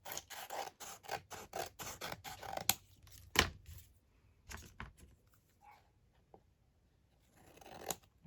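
Scissors snip through altered craft packaging being cut down for a handmade envelope, a fast run of crisp close cuts followed by a few scattered snips and a final cut, with no talking.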